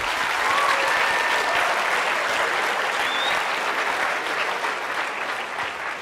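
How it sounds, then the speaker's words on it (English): Sustained audience applause in a high school assembly, a dense, even wash of many hands clapping, loud at first and easing slightly toward the end with no speech over it. "let's give another applause for Kathleen"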